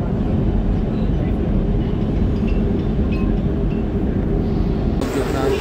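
A Dubai Metro train rolls into a station, a loud steady rumble of wheels and motors filling the space, with an announcement voice heard over it.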